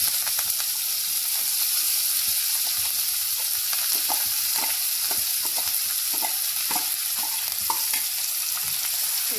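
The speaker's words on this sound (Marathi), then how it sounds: "आता कांदा लालसर होईपर्यंत आपण तेलात कवर परतून घेणार आहे." Chopped onion frying in hot oil in a pan, a steady close sizzle with scattered pops and the scrape of stirring throughout, no talk.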